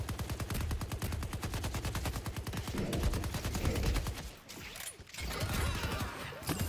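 Rapid automatic gunfire in the game Deadlock rattles in a fast, steady stream of close, loud shots, briefly breaking and then resuming with mechanical clatter.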